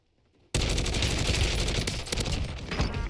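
Rapid automatic fire from a KRIG C rifle in Warzone bursts in after a short quiet lead-in, then holds as a loud, dense, unbroken volley to the end.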